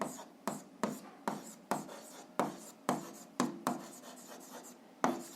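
A pen writes in a notebook in repeated short scratching strokes, about a dozen quick bursts in an even rhythm, close and fairly quiet.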